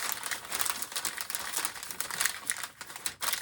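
Paper being gently folded by hand for a canvas craft project, giving a steady close crinkling and rustling that runs without pause, with no voices.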